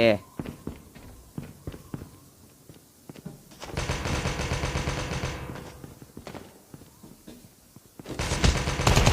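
Rapid gunfire in the Call of Duty video game: sharp single shots at first, then long dense bursts of automatic fire that swell and fade, loud and close amid other game noise.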